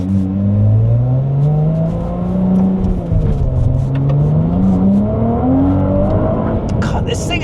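A Ferrari 296 GTB engine drones loudly and close on mountain roads, its pitch rising and dipping as it accelerates and eases off.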